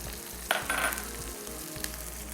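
Peas, carrot and cauliflower fry in a pan with a constant close sizzle, with light scraping and clinking from a utensil stirring now and then.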